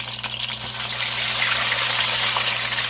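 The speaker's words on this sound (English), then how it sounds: "let the water drain off of it" Water drains and trickles off fried chicken pieces, a continuous close gush and dribble with a low steady hum beneath, rising slightly and holding without talk.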